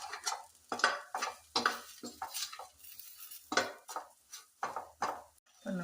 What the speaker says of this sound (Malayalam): നമുക്ക് ഈ മുളകിൻ്റെ ഒരു പച്ചക്കുറവ് മാറി കിട്ടാനൊന്ന് 1-2 വട്ടം ഒന്ന് മൂപ്പിച്ചെടുക്കാം